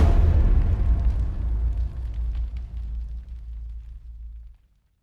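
A massive explosion from Just Cause 3 booms loudly, then rolls into a deep rumbling decay that fades out near the end.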